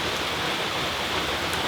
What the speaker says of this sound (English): Wow, nice rainstorm today. I'm glad I'm inside.